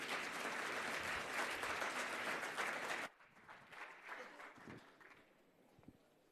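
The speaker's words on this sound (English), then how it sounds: "Shall we please give him a massive round of applause as well?" Audience applause at an African hydrogen summit fills the first three seconds as dense, steady clapping, then cuts off abruptly, leaving faint room noise and a few stray sounds.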